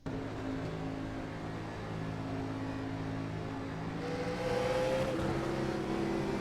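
A 1987-spec race car engine at Talladega drones steadily and then climbs in pitch as the throttle opens, loud and close, with no voices.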